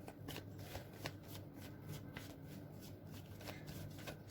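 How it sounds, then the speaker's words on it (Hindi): Tarot cards shuffled by hand in a continuous riffle and rustle, with soft repeated flicks and slaps at a steady rhythm, close and quiet with no talk. "So let me shuffle first."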